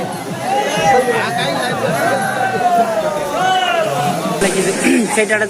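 A dense festival crowd at Gupteswar temple in Koraput chatters and calls out close by, overlapping voices and babble filling the space without pause.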